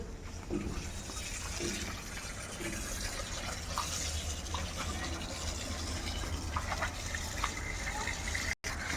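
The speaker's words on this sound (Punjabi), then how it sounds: "ਠੰਡੇ ਠੰਡੇ ਪਾਣੀ ਨਾਲ ਚੀਕੂ ਨੂੰ ਨਵਾਇਆ ਜਾ ਰਿਹਾ ਵਾ" Cold water poured over a pet during a bath, a steady splashing gush that runs throughout at moderate level, with a brief dropout near the end.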